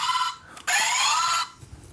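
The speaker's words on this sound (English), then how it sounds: "We're gonna activate our buzzers now." Quiz buzzer being activated and tested, a bright electronic tone sounding steadily for almost a second after a brief blip, fairly loud with no talking over it.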